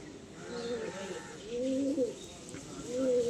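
A young male Kalanka pigeon coos in low, throaty, repeated phrases close by, with a steady background hum.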